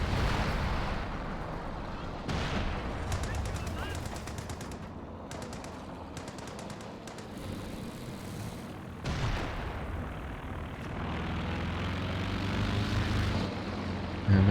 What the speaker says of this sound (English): And eventually we have the reconnaissance overflight.